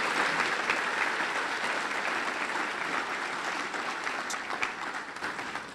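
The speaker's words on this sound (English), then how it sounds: "can we give one more huge round of applause for our 4 superintendent medallions" Sustained applause from an audience at a salute to service recognition ceremony honoring superintendent medallion recipients, a dense steady clatter of many hands filling the whole stretch before tapering slightly at the end.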